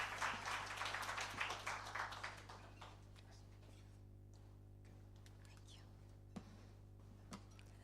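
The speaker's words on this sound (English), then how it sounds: "A round of applause to her as she comes." Audience applause greets a woman walking up at a climate summit private-sector breakfast, a dense patter of clapping in a large room that fades after about three seconds, leaving a quiet hum with a couple of faint knocks.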